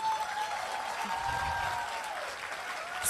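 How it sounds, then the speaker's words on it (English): A crowd claps steadily in a dense, continuous wash of applause that stays at an even level throughout. "A bigger round of applause."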